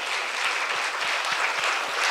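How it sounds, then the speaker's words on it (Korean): A church congregation claps during an early-morning worship service, a steady dense wash of many hands with a few sharper individual claps standing out, fairly loud and continuous without pause. "박수 치려면 제대로 쳐봐"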